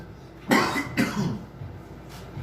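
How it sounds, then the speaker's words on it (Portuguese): A preacher gives two short, close coughs in quick succession and a fainter third cough follows a moment later, with no speech between them. "É só uma tossinha aqui, porque eu tô pregando"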